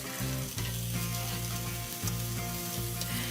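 Peppers blistering and charring in a hot pan, a continuous loud sizzle with brief dips and surges as they are flipped and shifted, alone without talk.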